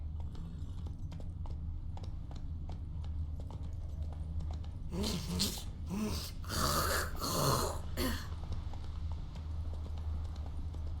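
Steady clip-clop of Roach the horse's hooves in The Witcher 3, a continuous quiet trot, with louder snorting breaths and horse vocal sounds rising for a few seconds midway.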